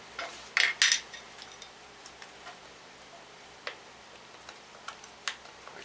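Pry bar working a part loose on a 2006 Hummer H3 during teardown: a few sharp metallic clanks and scrapes near the start, followed by scattered light ticks and clicks, close and fairly quiet, no talk.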